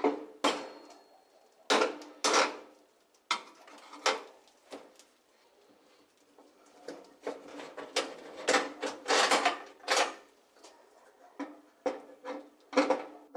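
A Phillips screwdriver loosens the fixing lugs of a built-in cooktop, producing a series of close, irregular clunks, scrapes and taps, some in quick clusters, with quiet gaps between.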